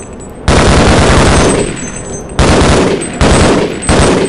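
Soldiers firing in the Half-Life video game: loud, close bursts of automatic gunfire, several separate volleys with short gaps, overwhelming everything else.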